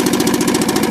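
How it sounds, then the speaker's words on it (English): A Mercury Mark 10 outboard motor idles close by, a loud, rapid, evenly pulsing putter with a steady mechanical beat and no talking over it. "Well, it's peeing. It's idling."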